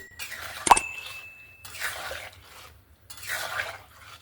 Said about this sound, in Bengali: লবণটা দিয়ে ভালো করে নাড়াচাড়া করে নিলাম।